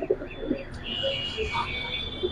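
A Giribaj pigeon gives soft, low, repeated coos, faint and close, over a quiet background hum with a thin steady whine.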